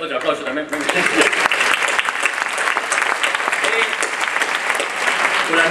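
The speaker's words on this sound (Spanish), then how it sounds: "Outro aplauso tamén." Steady, dense applause from a large audience at a graduation ceremony, many hands clapping continuously and fairly loudly for several seconds with no break.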